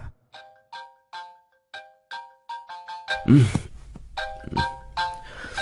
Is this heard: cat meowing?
no